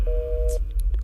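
A telephone busy tone sounds after a call is hung up: one steady electronic beep lasting about half a second, loud and close, followed by a few faint clicks.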